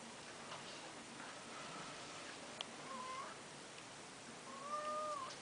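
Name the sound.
cat meowing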